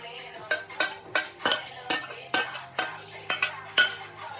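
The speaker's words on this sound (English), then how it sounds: "Go ahead and toss your noodles in" Noodles being mixed into hot Alfredo sauce with shrimp, mushroom and broccoli in an oiled pan, a utensil clinking against the pan in a steady rhythm of about a dozen metallic scrapes and knocks, close and clear.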